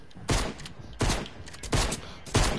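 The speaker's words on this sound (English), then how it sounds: "What's this dude shooting at?" Four loud, sharp bursts of gunfire from the Fortnite video game, spaced roughly evenly about two-thirds of a second apart, each with a short tail and no talking over them.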